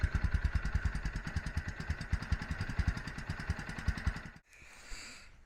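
A Bajaj Boxer motorcycle with a weak battery, started by kick, runs in a fast, loud, pulsing single-cylinder chug close by, then the engine cuts abruptly and a faint hum follows.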